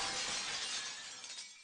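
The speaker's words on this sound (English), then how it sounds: "Our conversation was interrupted by the sound of glass, shattering followed by a scream" Glass shatters in a single bright, sustained crash that fades over under two seconds, heard in the Shin Hayarigami horror visual novel game.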